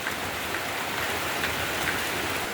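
Rain falls steadily on surfaces in cold, wet weather, a dense, even patter of drops close by with no voices.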